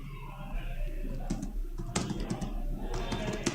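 Fingers tap out a quick, uneven run of keystrokes on a computer keyboard, close and clear over a steady low hum, with brief bursts and pauses and no one speaking.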